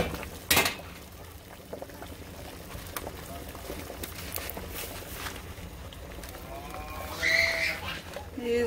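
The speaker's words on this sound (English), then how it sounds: "Waiting for this to come to a boil." A pot of water heating toward a boil gives a low, irregular bubbling and simmering wash, with scattered clicks and soft knocks, and a brief voice near the end.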